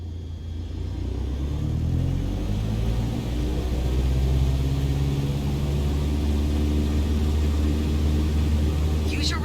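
Simulated light aircraft engine in Microsoft Flight Simulator 2021 during a takeoff roll, a steady loud droning hum with rising harmonic tones as power builds, continuous throughout.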